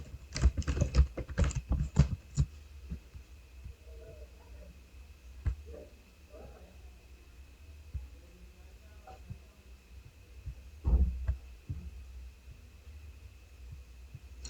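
Fast typing on a computer keyboard while entering numbers in a spreadsheet: a dense burst of close key clicks at the start, then scattered taps and a short second flurry over a faint steady hum.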